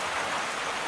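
Steady rain falling and pattering on surfaces, a dense continuous hiss close by with no voices.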